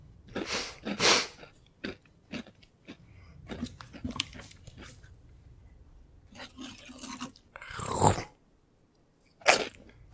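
Crunchy chewing close to a microphone, irregular bursts of crackling and crunching bites with short pauses between, some louder than others.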